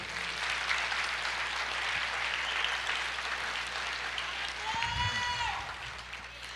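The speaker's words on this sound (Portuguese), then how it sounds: "aplauda o Senhor" Church congregation applauding, a broad continuous wash of clapping throughout, with a brief voice rising over the crowd partway through.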